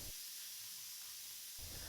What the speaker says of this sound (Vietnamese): phải gạt nút khóa khí để xả hết khí ra đã